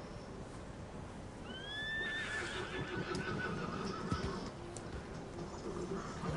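In Red Dead Redemption 2, a horse gives a clear, rising whinny after bucking off its rider, heard over steady outdoor ambience with faint hoof sounds.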